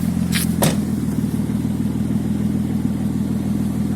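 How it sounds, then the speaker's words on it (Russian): A turbocharged BMW M50 engine idles through a straight-through exhaust muffler, giving a steady, loud, low droning rumble with a couple of brief clicks near the start. "Ну, вот такой вот звук получился у глушителя."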